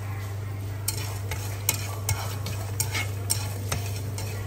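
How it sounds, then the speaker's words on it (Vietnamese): A pho spice packet with star anise and cinnamon is dry-roasted in a frying pan, a utensil scraping and clicking in uneven strokes over a constant low hum and light sizzle. "bỏ gói gia vị ra chảo để mình rang lên, rang cho nó thơm"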